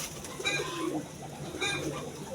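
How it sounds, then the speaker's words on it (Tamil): Pet pigeons at home give two drawn-out, throaty coos close by, each a soft rolling call separated by a short pause, with no talking. "ரொம்ப ஒரு மென்மையான புறாக்கள்."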